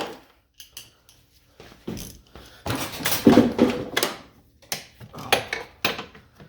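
Socket wrench work loosening half-inch bolts on the suspension of an Arctic Cat ZR 800 snowmobile: a run of close metallic clicks, scrapes and clanks in uneven bursts, louder through the middle, with no talking.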